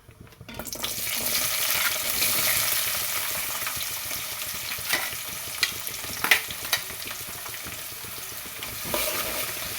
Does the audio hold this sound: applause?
no